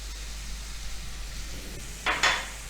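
Rice being stirred into a pan of sizzling onions for Maharashtrian vangi bhaat, a spiced eggplant rice: a soft steady sizzle with two short, louder scraping stirs near the end.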